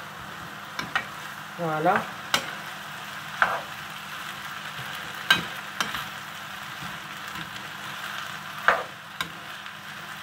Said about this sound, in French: là je mélange tout